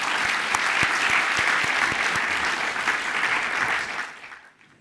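Audience applause at a tribute ceremony honoring a biotech chairman: steady, dense clapping from a large crowd that holds evenly for about four seconds, then fades out at the end.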